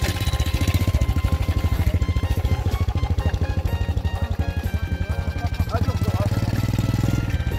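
Motorcycle engine running close by with a steady low throbbing idle and a pulsing rhythm, loud throughout, with a voice talking over it.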